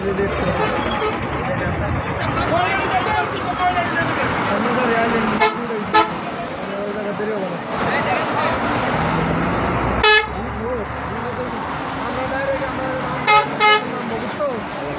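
A bus turning into a parking spot at Panchchar bus stand, its horn honking in several short blasts over steady engine and traffic noise, with voices talking in the background.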